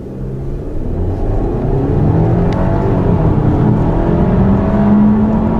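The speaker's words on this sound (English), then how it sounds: "this car has plenty of acceleration, especially in the bottom end when you need lots of torque" A 2014 Audi A6 2.0T quattro with turbocharged engine and Tiptronic automatic pulls hard and steady, a loud low rumble that builds slightly as it accelerates, with no talking.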